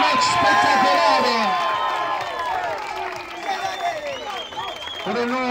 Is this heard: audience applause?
yes